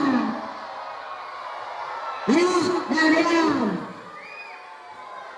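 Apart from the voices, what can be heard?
children cheering for the girls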